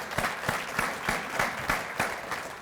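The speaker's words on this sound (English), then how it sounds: "I give you a round of applause" An audience applauds at a human rights awards ceremony, steady clapping from a sizable crowd with a roughly regular pulse of claps standing out, moderately loud and continuous.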